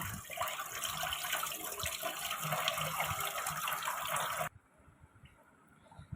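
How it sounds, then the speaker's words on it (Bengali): Shrimp being rinsed under a running kitchen tap, a steady broad gush of water splashing close by for about four and a half seconds before cutting off to quiet room tone. "এবার আমি চিংড়ি মাছটা ধুয়ে নেব"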